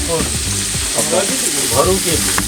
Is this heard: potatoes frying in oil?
yes